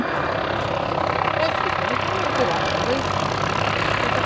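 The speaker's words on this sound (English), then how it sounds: "And here comes the second P-51" A P-51 Mustang flies past at the Shoreham airshow, a steady, throaty piston-engine drone holding close and loud throughout while a commentator talks over it.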